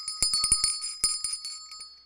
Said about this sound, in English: so I'm going to ring that bell